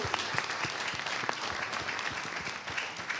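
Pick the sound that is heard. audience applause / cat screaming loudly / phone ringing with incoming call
audience applause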